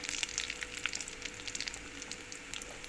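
Chili powder and curry leaves fry in oil in a pan on a gas stove set to low, a bright steady sizzle with small crackles and pops, close and alone without any talking.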